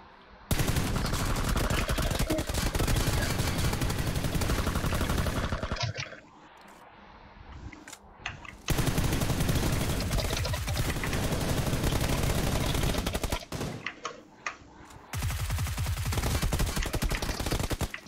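Heavy automatic gunfire from the video game PUBG Lite, loud dense bursts filling most of the stretch with two brief quieter gaps between volleys.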